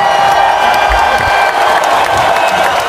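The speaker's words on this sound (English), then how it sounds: "Big round of applause." Sustained applause from a school audience at a celebration assembly, steady dense clapping with some cheering and whoops, filling the room without a break.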